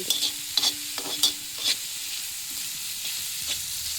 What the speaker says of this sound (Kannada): ಚೆನ್ನಾಗಿ ಇದನ್ನು ಹುರ್ಕೋಬೇಕು ನೋಡಿರಿ ಪಲ್ಯನ